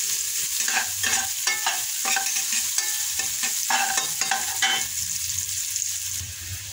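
Garlic and onion sautéing in a pan for chicken-feet sinigang, a continuous sizzle broken by brisk rhythmic stirring scrapes, close and loud with no talking.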